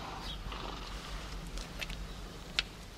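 A horse shifts and moves nearby, with soft hoof and body sounds, faint snorting and a few sharp knocks over a low rumbling background, and no voices.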